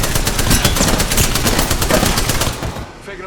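Rapid automatic gunfire from a video game firefight, a loud dense burst of repeated shots running steadily for about three seconds before cutting off abruptly.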